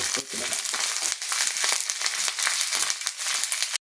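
Curry leaves fry with browned onions in coconut oil, a close, crackling sizzle with rustling bursts that runs steadily and then cuts off abruptly.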